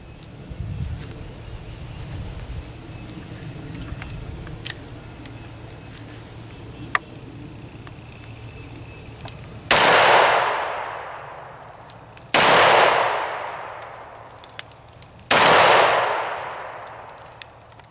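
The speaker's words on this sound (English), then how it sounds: "And now the 357 Magnum, same grain weight bullet, only it's going a little bit faster." .357 Magnum bullets strike a steel target plate in three loud, evenly spaced shots. Each impact is a sharp crack followed by a ringing metallic clang that fades away, with quiet outdoor background noise between.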